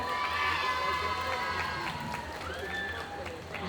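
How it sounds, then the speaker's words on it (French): A crowd at the Metztorii 2022 cosplay contest in Metz cheers and applauds loudly and continuously, with voices and shouts mixed into the steady clamour. "on peut encore applaudir bien fort s'il vous plaît"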